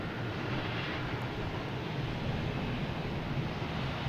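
An airplane arriving at Boston Logan Airport makes a steady, loud, broadband roar that holds unchanged throughout, with wind buffeting the microphone and no voices.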